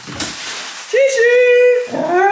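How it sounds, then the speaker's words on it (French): Dogs outdoors give high, drawn-out whines and whimpers, loud and close after a brief noisy start, with tonal yelping cries that rise and hold. "Oula, les chiens, ils sont pas contents dehors!"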